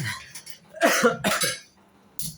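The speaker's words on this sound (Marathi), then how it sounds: "थोडीशी चॉकलेट खाल्ली तर मला पण खोकला यायला लागला" A few sharp coughs close by, bunched in a short burst and then a brief pause before one more cough.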